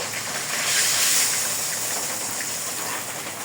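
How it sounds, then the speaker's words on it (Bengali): Fish head frying in hot oil for a puishak chorchori, a steady loud hiss of sizzling oil that swells briefly and stays constant, with no talking. "মাছের মাথাটা একটু ভালো করে ভেজে নিতে হবে।"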